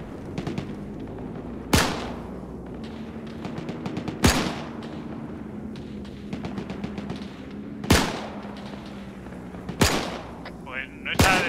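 Gunfire in a World War II multiplayer shooter game, with a machine gun firing short rattling bursts at a distance and heavier booming shots now and then, while players talk over it.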